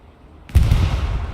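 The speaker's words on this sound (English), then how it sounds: "Clean bombing run by Turkleton." A bombing run in the World War II shooter Hell Let Loose hits with a sudden heavy explosion after a moment of low rumble, followed by a sustained booming roar.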